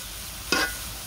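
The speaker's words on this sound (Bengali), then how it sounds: "একটু পাতাকপি ভাজতে আনছি।" Cabbage hits a pan of hot oil with a single short, bright hiss over a faint background sizzle.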